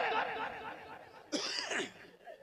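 A voice imitates a harsh cough during a religious sermon, one rough burst following a stretch of talk.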